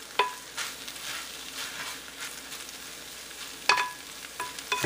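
Meat sizzles and fries in a pan for a Chinese dish, with a constant crackling hiss broken by a few sharp clinks and scrapes of stirring, close up and with no talking.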